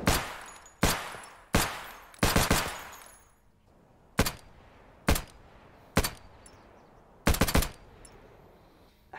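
KRISS Vector gunshots, sharp loud cracks fired as single shots and quick doubles and triples with short echoing tails, spread irregularly across the stretch with no speech.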